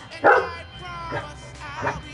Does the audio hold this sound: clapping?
no